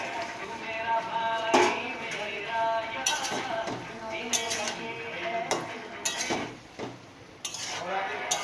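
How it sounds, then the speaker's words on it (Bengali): Fried lentil fritters are added to a pot of old-style chapor ghonto and stirred, giving clinks and scrapes of utensil against metal with occasional louder knocks, fairly close, over a dense, continuous background of kitchen clatter. "বড়াগুলো দিয়ে নাড়াচাড়া করে নেব।"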